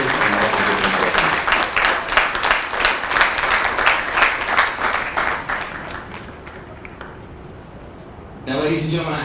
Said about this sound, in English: let's just give these two gentlemen a round of applause